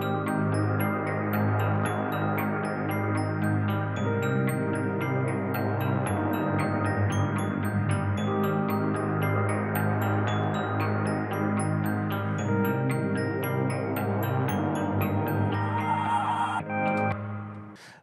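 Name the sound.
future bass arrangement with layered glockenspiel and guitar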